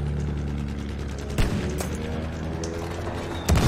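Gunfire in the World War I shooter Battlefield 1: two sharp, loud bursts of shots stand out about two seconds apart over a low, steady rumble of battle.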